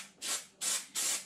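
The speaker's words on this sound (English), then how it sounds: "making sure you spray it, making sure you cover it really, really well" Spray adhesive misted onto wood panels and carpet lining fabric in a VW T5 campervan: three short, loud hissing bursts with brief pauses between them, close up and with no talk.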